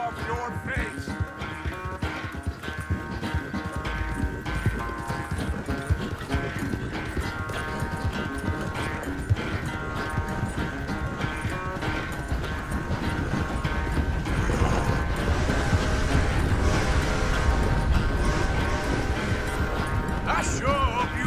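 Horse hooves clip-clop in a steady, continuous rhythm during a ride in the video game Red Dead Redemption 2, heard alone without talk.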